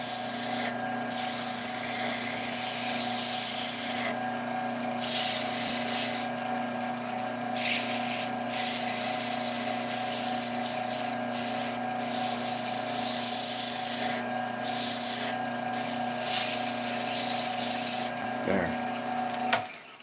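Light sanding on a spinning turned wooden top on a lathe makes a continuous close rubbing hiss over the steady hum of the machine, with brief breaks and short louder scuffs.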